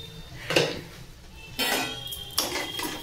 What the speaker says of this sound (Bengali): তো বন্ধুরা ঢাকনাটা এবার খুলে দেখব।